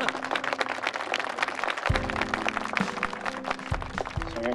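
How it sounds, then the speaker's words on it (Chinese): Crowd applause for a newly engaged couple at an engagement ceremony, a steady wash of clapping running throughout with sustained tonal music layered over it. "让我们为这对新人鼓掌吧"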